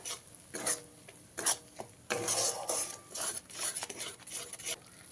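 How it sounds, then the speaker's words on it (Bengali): Mixed vegetables stir-fried with cashew, melon seed and poppy seed paste, the spoon scraping and clattering against the pan in uneven bursts over a soft sizzle, no speech. "কাজু চালমগজ আর পোস্ত বাটা দিয়ে আবারও খুব ভালো করে কষিয়ে নিতে হবে"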